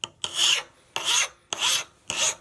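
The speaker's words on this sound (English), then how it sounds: "You can see as I grind away at it, the problem spot's disappearing." Wood rasp worked over an axe handle during hafting, four close, rough scraping strokes in a steady back-and-forth rhythm, with no voices.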